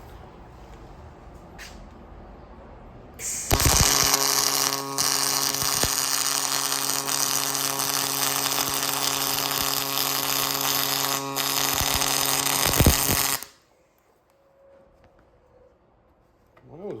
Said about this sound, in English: let's get to welding.